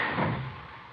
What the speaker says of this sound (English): Watch the door, Ben.